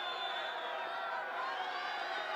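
A judo arena crowd at the 2018 Grand Prix in Tashkent gives a steady, broad murmur and roar that holds evenly throughout, with no single voice standing out.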